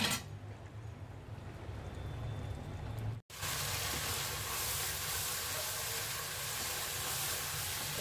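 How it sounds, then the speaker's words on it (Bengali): Vegetable stalks, chopped potato and fish sauté in a pan, giving a steady, close broadband sizzle and hiss that cuts out for a moment partway through, then resumes just as loud. "ডাটাগুলো আগে কষিয়ে নিই তারপরে একটা আলু কুচি দিয়েছি আর মাছ দিয়েছি"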